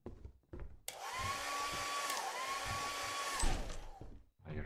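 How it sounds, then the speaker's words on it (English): A hair dryer in the video game Lethal Company switches on abruptly and blows with a steady whirring roar for a few seconds, then cuts off; faint clatter around it. "It was the hair dryer I found."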